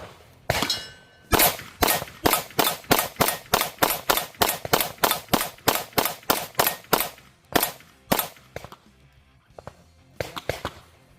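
A Glock 48 pistol fitted with a Shield Arms premium magwell fires a long, steady string of about two dozen sharp shots at an even rhythm, followed after a short pause by a few scattered final rounds.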